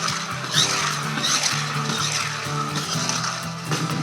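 Toy monster trucks rev with high, warbling motor whines and screeches during jumps and backflip attempts, close and continuous, in bursts that rise and fall.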